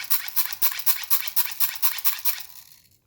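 A hand-cranked flashlight being wound gives about ten quick ratcheting whirs in a steady rhythm, close up, then fades to silence near the end.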